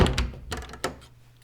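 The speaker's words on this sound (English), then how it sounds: "Harry has just closed the door" A door shuts with a dull thunk, followed by a couple of lighter knocks and rattles as it settles, close and clear with no talking.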